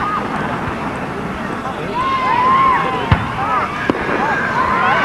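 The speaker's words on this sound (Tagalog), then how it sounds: "Ganda pala naman fireworks." Fourth of July fireworks bursting continuously at a distance, with two sharp cracks standing out amid the rumble, while several people talk and whistle-like tones rise and fall over the crowd.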